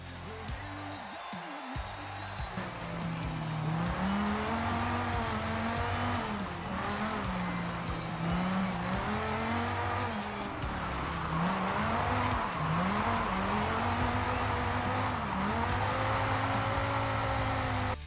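A Dodge Viper ACR races hard in the Forza Horizon 5 driving game, its engine note rising and falling as it shifts and brakes through corners. Tires squeal and skid throughout, with no talking.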